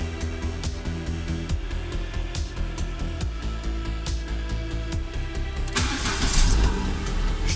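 A car engine cranks and starts after a fault repair on the electrical, ABS, engine-management and anti-pollution systems, then runs steadily and loudly nearby, rising slightly toward the end.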